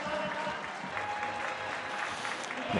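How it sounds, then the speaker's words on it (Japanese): Supporters of both rugby teams applaud across a stadium after a drawn match, a broad, distant wash of clapping sustained throughout. "スタジアムから両チームのサポーターから拍手が起こっています"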